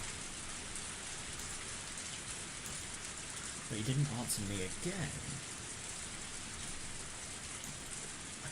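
Steady heavy rain pours down in the Higurashi: Matsuribayashi game, a dense continuous hiss with a brief voice speaking over it midway.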